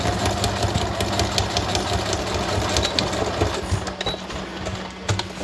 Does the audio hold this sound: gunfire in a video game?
no